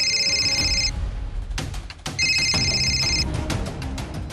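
A telephone bell rings in two loud, close bursts of bright trilling rings with a short gap between them, alongside a few knocks and thuds in a room.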